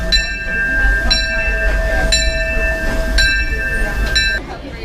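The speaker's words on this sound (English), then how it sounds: "The train's coming right now." The Disneyland Railroad train arrives in a steady rumbling, metallic roar with a sustained whistle-like tone pulsing at regular intervals, close and loud, with faint voices in the background.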